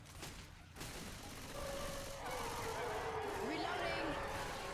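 Gunfire rattles in the background of a competitive video game final, a continuous dense fusillade mixed with game noise while a commentator talks over it.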